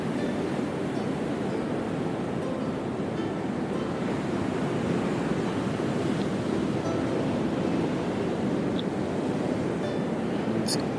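Calm sea waves on a Kauai beach in early morning, a soft, steady wash of surf with gentle wind noise, continuous and even with no voices.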